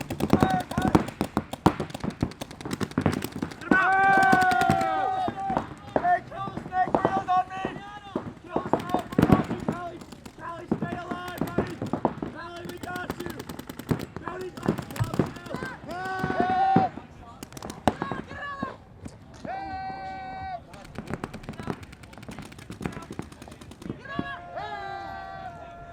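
Paintball markers fire in rapid bursts of popping during an NXL pro match quarterfinal between Killers and ATeam, the shots cracking through loud, excited shouting from voices nearby.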